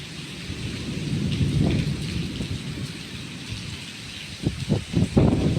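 Heavy rain pours steadily with wind and low rumbling thunder around a hilltop temple pavilion in Thailand, and several sharper thumps and gusts build toward the end. No voices.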